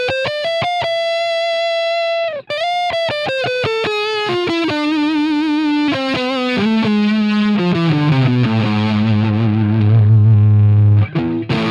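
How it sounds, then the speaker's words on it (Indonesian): A Fender electric guitar plays through its original distortion, switching between neck and bridge pickups, in a loud, sustained descending run of heavily overdriven notes that ends in a low, growling held chord. "Distorsi tanpa pengolahan ya, ini original distorsi."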